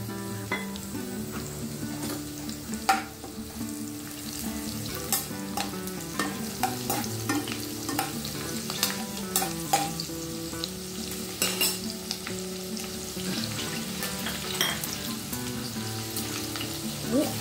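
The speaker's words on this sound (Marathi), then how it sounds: "आणि आलं लसूणची पेस्ट हे सगळं आपल्याला तेलावर परतून घ्यायचं" Curry leaves, green chilli and ginger-garlic paste sauté in hot oil for a Sankranti bhogichi bhaji, with a steady close sizzle and frequent scraping clicks of a spoon stirring the pan, no voices.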